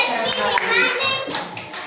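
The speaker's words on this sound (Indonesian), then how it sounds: "Kita beri tepuk tangan." Children in a classroom clap together in a short, close burst of applause, with a voice talking over the clapping.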